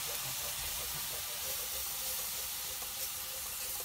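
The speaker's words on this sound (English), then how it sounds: "It's going to make steam." Steady broadband hiss and light sizzle of steam as room-temperature whole milk is poured slowly into a hot pan of sausage gravy, continuous and close with no talking.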